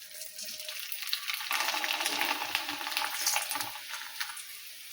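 Sabudana papad, a sago wafer, frying in hot oil: a dense, steady sizzle that grows louder and fuller partway through as the wafer puffs, continuing without pause and with no talking.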